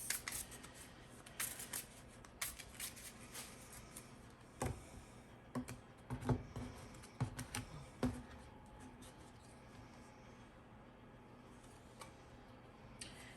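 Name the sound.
shuffling tarot cards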